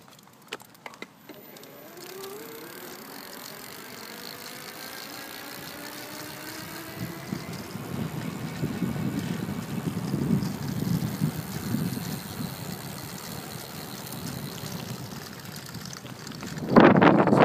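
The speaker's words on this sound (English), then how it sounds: "So I'm going to start out in twist throttle only mode. Here we go, and listen for the motor." An A2B Kuo electric bike's hub motor in twist-throttle mode: a faint whine that climbs in pitch as the bike speeds up, soon buried under a low rush of wind, with a sharp bump at the end.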